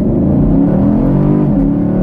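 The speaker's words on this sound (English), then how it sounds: "I'm in 1st gear on a closed course, no one around, and let's go." A Hot Wheels edition Chevrolet Camaro SS 50th Anniversary Indy Pace Car accelerates hard in first gear on a closed course, its engine roaring loudly and steadily close by, with no talk over it.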